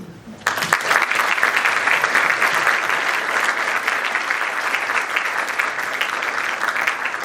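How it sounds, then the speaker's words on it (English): An audience at an engineering regional conference breaks into sudden, loud applause that holds steady and dense, a sustained wash of many hands clapping together. "So they deserve a round of applause."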